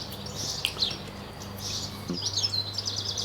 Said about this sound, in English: I do love the song and twitter of the birds in the morning.